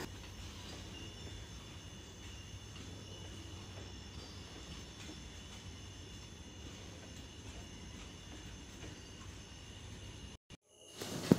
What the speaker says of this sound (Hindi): कोसी एक्सप्रेस जो है वो पूर्णिया कोर्ट के प्लेटफॉर्म नंबर 1 पे आ चुकी है